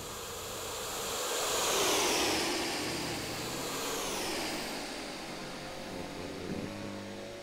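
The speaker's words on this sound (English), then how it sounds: "That's some cool planes." RC model airplanes flying at an airstrip in Las Vegas, a continuous buzzing engine whine that swells around two seconds and shifts pitch as they pass, moderately loud with steady outdoor wind.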